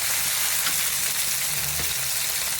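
Tomatoes sizzle in a frying pan while being stirred for tortang talong, a steady close hiss with soft scraping stirs and a few low clinks near the end.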